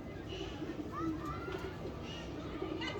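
Soft pigeon coos and a few faint chirps come through a quiet, low background murmur.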